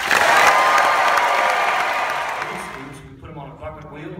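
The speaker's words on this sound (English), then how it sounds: "I'll go 3, 2, 1, and then I want you to give us some applause" A live audience at a science event in Orlando bursts into loud, sustained applause and cheering that fades out over a few seconds.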